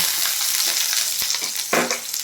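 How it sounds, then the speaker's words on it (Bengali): A chopped medium onion fries in a pan with a loud, close, continuous sizzle, broken by a few scraping stirs. "পেঁয়াজটা একটু ভেজে নেব"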